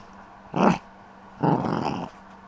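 A playful dog growls in two bursts, a short rumble followed by a longer one, close and fairly loud against quiet background.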